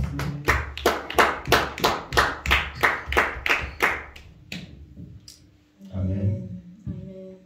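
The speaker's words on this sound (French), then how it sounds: "kannst du den Herrn applausen?" A church congregation claps in praise of God at a French and German service, a quick steady run of close, crisp claps that fades out, followed by a few spoken words.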